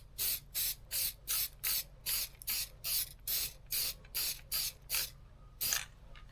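Rust converter sprayed from a can onto rusty metal on a 1982 VW Westfalia, about a dozen short, sharp hissing bursts in a steady rhythm, close and loud over a low background hum.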